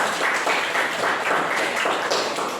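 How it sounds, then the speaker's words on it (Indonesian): A classroom of people claps together, loud and close, the applause swelling in uneven bursts for a few seconds. "Ya, tepuk tangan dulu."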